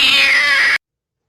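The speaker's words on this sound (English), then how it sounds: "the cat screeches and leaps onto Graham's face" A cat lets out a single loud, harsh screech, sustained and shrill at close range, cut off abruptly into silence.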